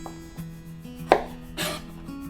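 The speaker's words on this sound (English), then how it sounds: "please cut off the bottom part of the garlic" A kitchen knife slices the root end off a garlic bulb on a cutting board: one sharp, close chop, then a brief rasping cut against a quiet background.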